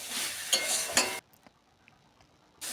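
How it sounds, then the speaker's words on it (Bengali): Thankuni greens stirred in a pan after ghee is added: a short burst of sizzling and scraping for about a second, then near silence before the sound resumes briefly. "ঘিটা দেওয়ার পর কিছুটা নেড়ে নেবেন।"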